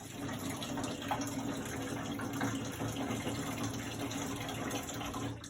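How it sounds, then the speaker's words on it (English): Tap water runs steadily over washed dishes being rinsed in a sink, a continuous close gushing stream with faint clinks. "you're going to rinse all the bubbles off of it"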